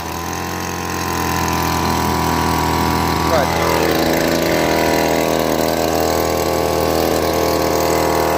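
A Keene 140S drywasher engine runs steadily at close range, a loud, constant mechanical drone with a slight rise in level early on, while a voice speaks briefly.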